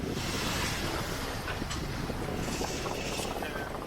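Steady broadband wind rushes across the microphone aboard a sailboat on Chesapeake Bay, moving at 6 to 7 knots in 14 knots of wind, with water noise beneath and no gaps.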